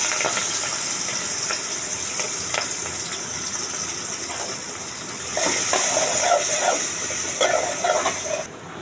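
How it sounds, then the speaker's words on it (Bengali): Chopped onion, garlic and chili fry in leftover fish-frying oil, giving a steady loud sizzle and hiss that rises slightly partway through, with no talking. "আমার পেঁয়াজ রসুন ভাজা হয়ে গেছে"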